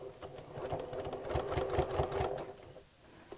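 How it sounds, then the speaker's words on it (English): A sewing machine stitching folded bias binding onto a fabric dust cover, running at a slow steady pace with a rapid rhythmic mechanical whir and needle clatter, close by and alone, easing off near the end. "I'm going to sew as close to the edge as I can"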